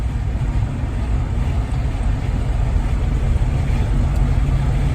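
Ford Falcon cruising at about 2,000 RPM, heard from inside the cabin as a loud, steady low engine drone blended with road rumble, unbroken and without speech throughout.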